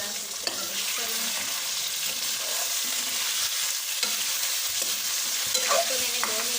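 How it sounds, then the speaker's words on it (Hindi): Chicken pieces are stirred in hot oil with browned onions for a chicken masala curry, a steady close sizzle with scraping stirs and occasional spatula knocks, loud and without voices. "प्याज हमारा ब्राउन हो गया है, तो अब इसमें मैं चिकन ऐड कर दूँगी। इसी तरह से मिक्स कर लूँ।"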